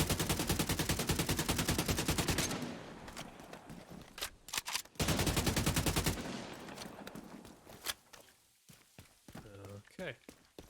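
Automatic gunfire from a gun in the video game The Division 2 comes in long, loud, rapid bursts with a pause between them, then gives way to scattered quieter shots and a brief voice.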